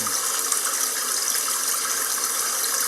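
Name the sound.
running water sound effect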